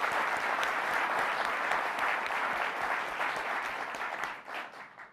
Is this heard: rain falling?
no